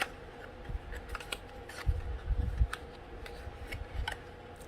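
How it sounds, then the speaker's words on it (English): A bone folder creases paper for a craft advent calendar box, sounding as quiet scraping and light ticking strokes spread across a few seconds, close and soft with no talking. "And I do like to take my bone folder and crease it."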